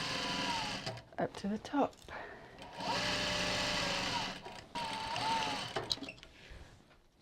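A home sewing machine runs in short bursts, stopping and starting as it back stitches a rolltop rucksack seam, with a person talking briefly between the runs.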